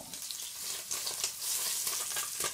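Chicken pieces searing skin side down in olive oil in a cast-iron pot, giving a steady, close, bright sizzle with crackling bursts throughout, no voices.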